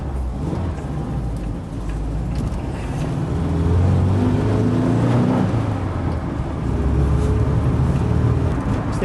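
A VW bus on hydraulic suspension rolls over a speed bump, its engine rumbling steadily with mechanical knocks and body clunks mixed into the continuous low drive noise.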